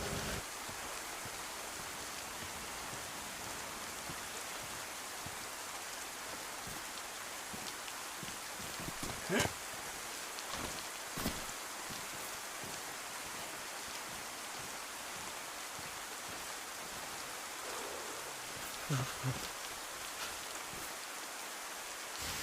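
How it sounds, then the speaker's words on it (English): Steady video game rain falls evenly throughout, a constant wash of hiss with a few louder drips and taps along the way. "I hope the rain's going to cover the noise."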